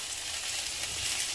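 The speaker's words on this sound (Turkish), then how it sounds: "Şöyle hafif hafif kızartıyoruz." Broccoli garnish for entrecote gently frying in a pan, giving a steady, close hiss of sizzling oil with no voices over it.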